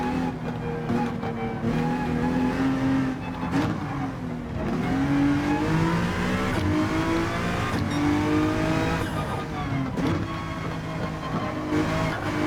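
Honda NSX GT3 race car in Gran Turismo 7, its engine loud and close, revving hard and rising through gears with brief lifts between shifts, continuous throughout.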